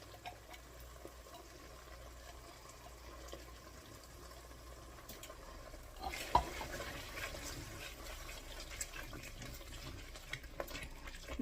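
A broccoli, cheddar cheese soup and rice casserole mixture being stirred in a bowl, giving soft, steady scraping and sloshing with a slightly busier stretch midway, quiet and close with no talking.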